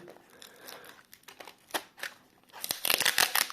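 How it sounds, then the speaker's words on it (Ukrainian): Close crinkling and scraping of tape and packaging as a parcel heavily sealed with tape is cut open, with short rustles building into denser tearing at the end. "дуже хорошо заклеєно скотчем. Ми розріжемо."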